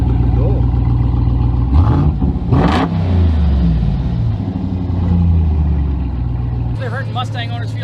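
Hemi-powered car fitted with electric exhaust cutouts on stock exhaust, revving in sharp bursts with a deep rumbling idle between blips, loud and close, ending in a rising rev.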